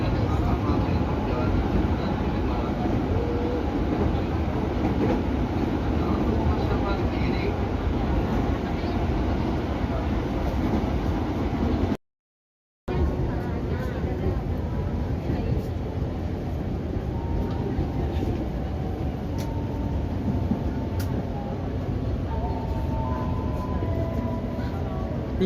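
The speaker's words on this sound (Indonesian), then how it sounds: "Untuk kecepatan di lintas Klender hingga Buaran ini 90 km per jam" A KRL commuter line electric train on the Klender to Buaran stretch near Cikarang runs at about 90 km per hour, giving a steady, loud rumble and rail roar throughout with a brief cut midway, no clear talk over it.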